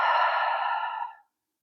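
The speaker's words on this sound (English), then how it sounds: "exhale with the mouth" A single long, steady exhale through the mouth during a guided yoga session for tight hips, a soft breathy rush lasting about a second before fading to silence, close and alone with no talk.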